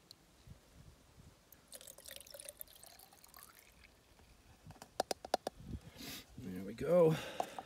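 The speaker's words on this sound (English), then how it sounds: "And just pour it in." Water pours and trickles briefly from a cup into a container near the end, after some faint drips and quiet handling sounds, on the Vermont Long Trail.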